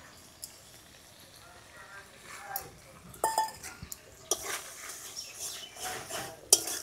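Ground spinach paste goes into a pan of fried spiced masala while cooking spinach with prawns. Soft scraping gives way to sharp, scattered clinks of a spoon against the pan, fairly quiet, with a little talk.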